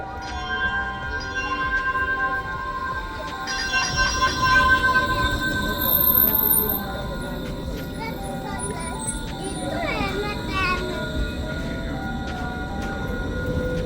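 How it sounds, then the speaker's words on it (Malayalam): A tram pulls into a station with a rumbling roll and sustained tonal whine and screech, loudest midway and then easing off. Voices are faintly audible in the background. "ട്രാം വരുമ്പോൾ കാണാം."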